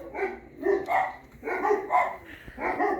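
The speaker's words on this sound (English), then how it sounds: "sorry about my dogs in the background if you hear them" Dogs bark repeatedly in quick bursts at a moderate distance, a steady run of sharp barks.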